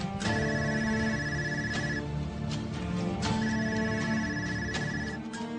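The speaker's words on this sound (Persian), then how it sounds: "زود با تلفن جواب ده." A telephone rings with an electronic tonal ringtone, two clear repeated bursts of bright tones close to the microphone over a busy background, with no voices.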